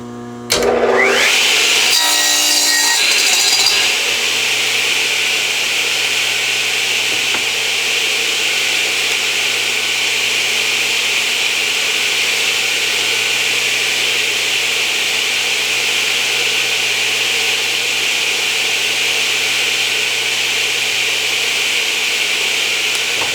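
A radial arm saw fitted with an 80-tooth Forest blade spins up and cuts plywood, a loud, close whine and rasp starting in the first seconds, then a sustained high motor drone running steadily throughout.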